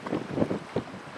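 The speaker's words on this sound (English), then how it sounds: "So windy out here today after this big cold front we had" Strong gusty wind after a cold front buffets the microphone in low, rumbling bursts, with a roar of open water and waves behind it, at a lodge outpost.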